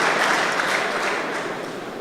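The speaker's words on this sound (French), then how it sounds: "Avec les applaudissements de la salle" A hall audience applauds at a celebration of a Kintoa AOC, a dense, steady wash of clapping that holds loud throughout and eases only slightly toward the end.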